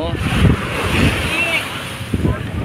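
Strong waves breaking at Dolomite Beach, a loud rushing surf mixed with wind buffeting the microphone, continuous and close, with a person talking over it.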